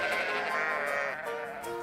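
A single sheep in New Zealand bleating in a long, wavering, nasal cry, loud and close and heard alone for nearly two seconds.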